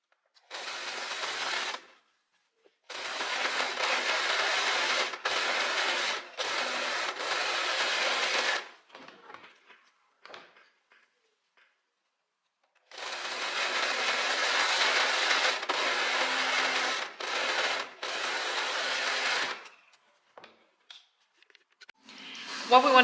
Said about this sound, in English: we're gonna overlock this side, and then we're also gonna just overlock this part here